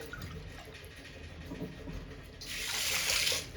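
Water pours onto sugar crystals in a pan while making syrup for ice gola, a steady hiss of liquid that rises loudly near the end over a low background.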